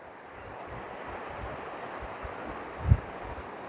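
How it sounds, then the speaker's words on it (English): A river rushing through a Rocky Mountain canyon, a steady broadband wash of flowing water with wind noise mixed in and one brief low thump near the end. "here we got some river going by"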